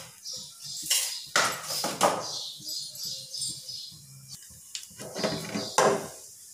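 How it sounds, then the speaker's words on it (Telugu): Mustard seeds, cumin, chana dal and urad dal sputter in hot oil for a tempering, giving irregular loud crackling bursts and pops with brief quieter gaps and some utensil clatter, no talking. "పోపు వేగుతుంది"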